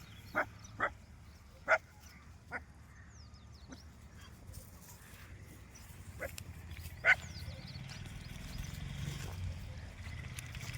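Several sharp dog barks ring out in the distance at wild boars, a few spaced calls early on and a couple more later, over a steady outdoor rumble.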